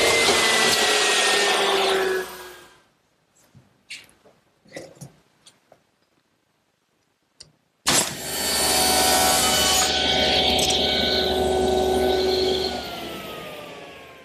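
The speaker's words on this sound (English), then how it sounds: "Now here I'm marking the length of the side piece. I'm going to add an inch and cut it at 10 degrees." A power saw with its blade tipped to 10 degrees cuts a wooden side piece for an outdoor cupboard: a loud, close whining cut for about two seconds, a quiet stretch with faint handling knocks, then a second long, steady cut.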